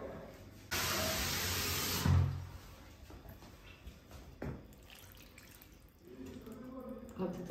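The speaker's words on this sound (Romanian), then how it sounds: "Și acum să punem apă" Tap water pours into a cooking pot for beef sarma in a home kitchen, a loud steady gush lasting about a second and a half, then quieter clatter and handling.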